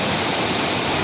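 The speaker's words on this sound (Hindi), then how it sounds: "इतनी स्पीड से पानी गिर रहा है" Bamni Falls waterfall in Purulia, West Bengal, with water plunging at high speed, giving a steady, loud, broadband rushing roar with no voices over it.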